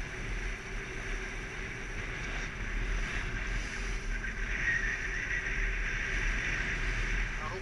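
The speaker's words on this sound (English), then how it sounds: "highest waves I've ever hit." A boat pounds through high waves on Lake Ontario, with steady wind and water roar that stays loud and continuous throughout, slight surges marking the hull hitting swells.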